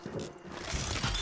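Weapon reload in the video game Hyper Scape, a continuous mechanical clicking and ratcheting lasting just over a second, moderately loud and steady with no speech over it.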